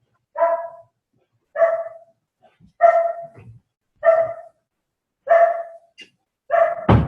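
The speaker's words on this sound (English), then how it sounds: "Sorry about that. Howling dog." A lonely dog shut in another room gives six drawn-out cries in a steady rhythm, about one per second, each clear and fairly loud, with no talking over them.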